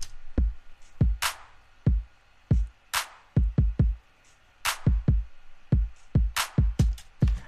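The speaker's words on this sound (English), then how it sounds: "The drums sounds like this, really, really simple, also together with claps" Simple electronic drums for a techno remix thump in a steady pattern, with deep kick hits and sharp claps landing in between, punchy and up close with no other instruments.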